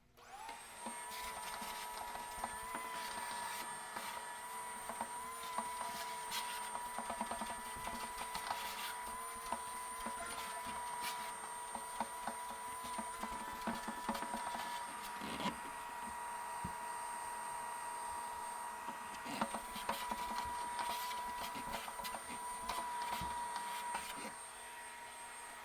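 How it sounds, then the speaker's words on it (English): An aquarium gravel vacuum draws sand while cleaning a 54-gallon corner fish tank, giving a steady loud whirring hum with a constant tone that runs the whole way through, with a few brief knocks and no talking. "All right, let's try this vacuum again."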